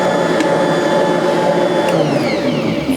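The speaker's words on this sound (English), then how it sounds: "So let's get this mixer going here." A Bosch stand mixer runs on its lowest setting kneading soft bread dough for dinner rolls, a loud, steady motor whine and hum that stays constant and close without talk.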